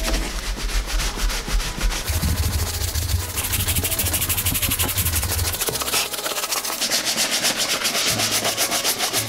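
A brush buffs a leather shoe polished with traditional products: steady, brisk, close rubbing strokes that carry on without a break over a low background hum.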